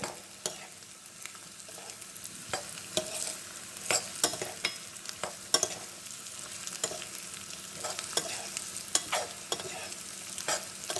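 Mutton chops fry in plenty of oil while being stirred, a steady close sizzle broken by frequent sharp scrapes and clinks of a spoon against the pan, with no talking.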